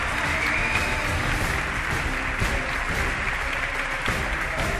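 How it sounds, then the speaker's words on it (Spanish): Audience applause for soprano Patricia Santos, winner of the first season of the Ópera Prima competition, at a live gala. The clapping is dense, steady and sustained for the whole stretch, with no voices over it. "Por último, pedimos un fuerte aplauso para la soprano Patricia Santos"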